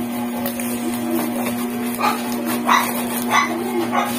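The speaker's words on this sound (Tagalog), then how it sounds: "Ang ingay-ingay naman ng tuta." A puppy yips and barks several times in short bursts over a steady electrical hum, fairly faint and somewhat distant, with no talk over it.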